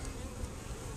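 A dense, continuous hum of many honeybees buzzing at an open hive, close and steady throughout, with no voices.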